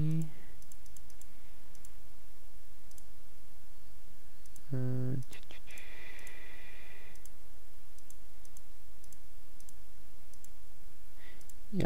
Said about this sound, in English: that will be a lot of clicking around.